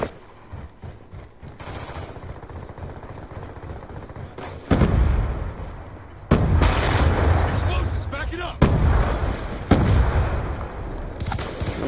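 C4 charge detonating in a tactical shooter game, several heavy broadband blasts going off in succession over about twelve seconds, loud and close with rumbling tails, overlapping continuous gunfire.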